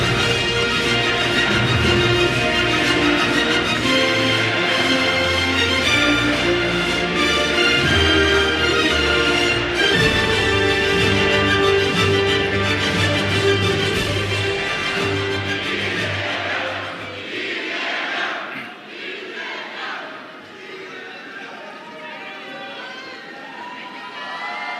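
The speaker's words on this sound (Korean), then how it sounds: "뜨거운 박수로 맞아주시기 바랍니다." A large crowd at a Korean political rally cheers and applauds loudly for a presidential candidate, a dense, sustained roar that fades toward the end, leaving scattered shouts and thinner applause.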